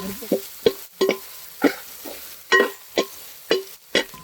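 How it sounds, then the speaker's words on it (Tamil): Grated coconut fries in hot coconut oil in a pan while a spoon stirs it, making a regular series of short scraping strokes over a faint sizzle, with a voice speaking briefly between strokes. "தேங்காய் சூடாகிச்சிங்கன்னா நம்ம தேங்காவை போட்டு பொன்னிறமாக வறுத்து எடுத்துக்கிறாங்கண்ணா"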